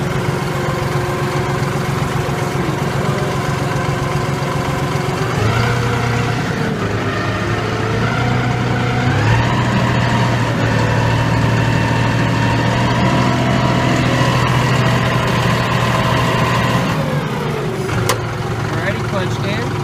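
A John Deere 5065E tractor's diesel engine runs steadily and up close in reverse, with a few rises and dips in pitch as levers shift. No one speaks.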